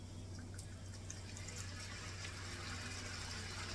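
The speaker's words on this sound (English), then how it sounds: "So I'm going to put about half a cup of this just to deglaze it" Liquid, about half a cup, poured into a hot pan of garlic to deglaze it, a steady watery rush and fizz that holds at an even level under a low hum, with no voices.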